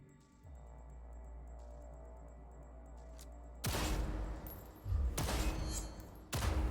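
Several bursts of rapid gunfire from tactical target practice in the video game Cyberpunk, loud and close, erupting in three blasts after a low steady hum.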